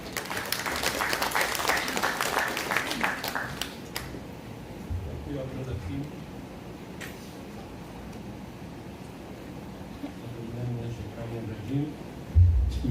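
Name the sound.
audience applause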